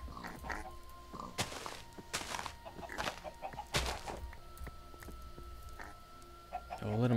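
Hens clucking in TerraFirmaCraft, a game, come as short scattered bursts at close range over a quiet backdrop, with a few sharper squawks spread through the clip.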